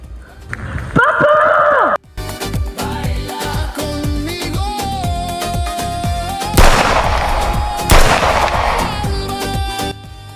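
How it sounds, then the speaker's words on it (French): A sharp, loud gunshot cuts through a busy outdoor scene, followed by a burst of broadband noise amid clattering sounds and a voice. "Il y a eu un coup de feu là, non?"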